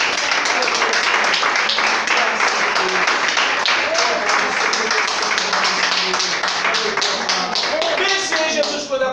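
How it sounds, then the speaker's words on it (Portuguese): A church congregation claps and applauds in dense, steady rhythm, with voices and singing mixed in throughout, loud and close. "Você pode aplaudir o Senhor, pode?"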